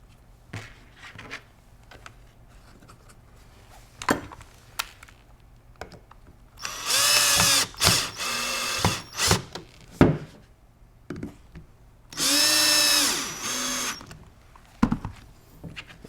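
A power driver backs out Phillips head screws from the rear of a Benelli 828 U over-and-under shotgun stock, two loud bursts of high whirring with handling clicks and taps between them, close with no speech.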